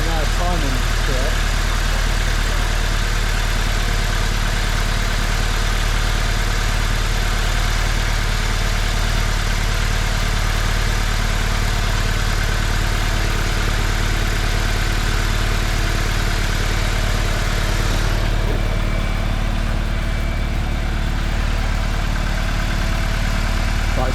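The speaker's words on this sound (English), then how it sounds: "making sure the engine is running okay" BMW N46 engine idling after a Valvetronic replacement, a steady continuous mid-to-low engine drone heard close up for the whole stretch, loud and unbroken, with no talking over it.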